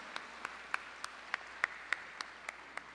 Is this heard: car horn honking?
no